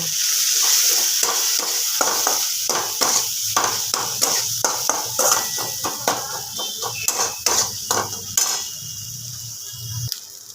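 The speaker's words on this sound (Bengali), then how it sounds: "এবার সমস্ত মশলাগুলোকে খুব ভালোভাবে কষিয়ে দেব" Spice masala for a bhetki fish kalia fries in a pan under rhythmic, repeated spatula strokes, each scrape rising over a continuous sizzle, close and fairly loud.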